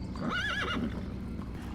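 A big black horse gives a clear, rising-and-falling whinny over a steady clip-clop of hooves, close and fairly loud against a soft background.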